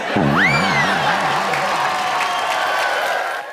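Studio audience applause on a comedy game show fills the background, a steady wash of clapping mixed with loud music and a rising swooping sound effect over it.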